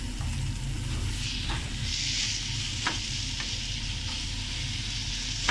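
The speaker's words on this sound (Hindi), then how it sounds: "ये देखें 5 से 6 मिनट इनको हमने फ्राई कर लिया अच्छी तरह से इसको" Mutton brain (maghaz) masala frying and being stirred in a pan, with a constant loud sizzle and occasional spoon scrapes close by. No one speaks.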